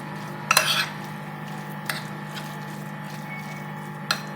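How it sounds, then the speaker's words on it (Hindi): A spoon or utensil stirs dumpling filling of salt, soy sauce and sesame oil in a bowl, a few soft clinks and scrapes with pauses between, close and fairly quiet. "अच्छे से मिक्स कीजिएगा, ताकि जो salt, soya sauce, sesame oil, सब का फ्लेवर अच्छे से आ जाए इसमें"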